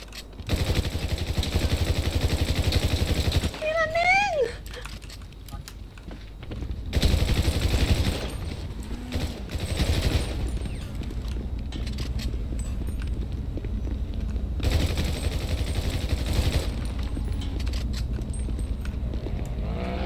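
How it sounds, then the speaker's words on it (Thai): Gunfire shot from inside a building comes as loud, rapid bursts and clattering volleys that continue across the whole stretch, broken by short pauses and a few brief voice sounds. "เฮ้ยมันยิงจากข้างในมา"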